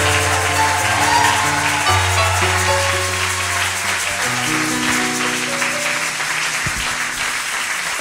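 A church congregation gives a sustained standing ovation for Jesus, with steady, dense clapping and crowd noise that fills the room over continuous music.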